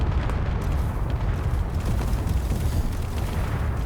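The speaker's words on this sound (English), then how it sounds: "Thrusters are firing up big." Spaceship thrusters roar in a Space Engineers battle, a loud, steady rumbling blast with heavy low-end churn that persists throughout with no letup.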